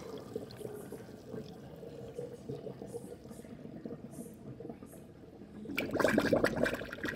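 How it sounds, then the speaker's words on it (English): Water runs steadily for several seconds, then a louder burst of gurgling swells near the end as it drains away. "That was a big gurgle."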